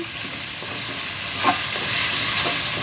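Coconut milk is poured into squash cooking in a pot, giving a soft sizzle and a stirring sound over a steady hiss, with one brief splash near the middle.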